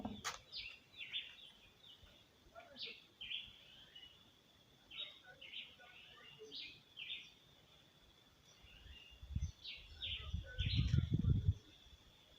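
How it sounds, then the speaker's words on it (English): Birds singing on a rural nature walk in Jamaica, repeated high chirps and calls at moderate distance, with low rustling and footstep-like thumps growing louder toward the end. "Bird music."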